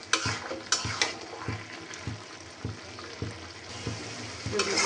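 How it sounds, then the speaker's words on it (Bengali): Cabbage frying with chicken in a pan, stirred continuously, giving a steady sizzle broken by regular scraping strokes of the spoon. "আমি এই যে দেখুন অনবরত পাতাকপিটা নাড়তেছি"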